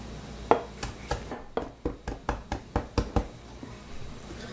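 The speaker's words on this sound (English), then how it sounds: "Now I have few leaves thyme, a few leaves mint. I'm gonna chop them" Knife chopping fresh thyme and mint leaves on a cutting board, about a dozen sharp, close knocks in an uneven rhythm with quiet gaps, no talk.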